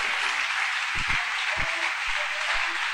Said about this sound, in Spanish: ¿Cuántos aplauden al Señor Jesús?